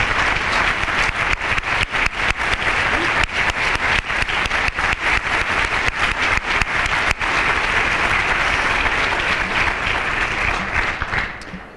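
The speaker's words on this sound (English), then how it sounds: "I'd just like to give them a round of applause for all their planning." Audience at a Martin Luther King Jr. remembrance luncheon breaks into sustained, dense applause that holds steady for about ten seconds before tapering off at the end.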